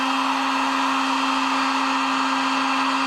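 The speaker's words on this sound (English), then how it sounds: "I'm going to put the heat gun on here." A heat gun blows hot air in a steady, loud whoosh with a constant motor whine, running alone and unchanged throughout.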